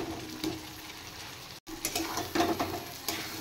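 Pieces of fried elephant foot yam go into a hot karahi and sizzle loudly. The steady frying hiss breaks off briefly, then returns with sharper crackling bursts.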